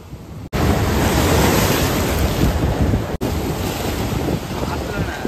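Strong wind roars across the microphone at the Digha river mouth where it meets the sea, with surf washing underneath in a loud, unbroken rush that cuts out briefly twice.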